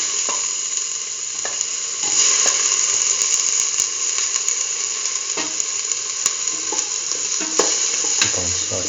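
Tomato pieces sautéing with chayote and peas in a pan: a loud, steady sizzle and hiss with frequent sharp scrapes and clicks of a spatula stirring, heard up close with no voices.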